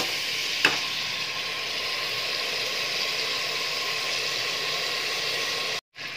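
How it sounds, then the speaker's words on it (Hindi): Mutton frying in oil gives off a steady, even sizzling hiss, with a single sharp click near the start and a brief dropout just before the end. "मटन हमारा तेल में अच्छे से फ्राई हो रहा है"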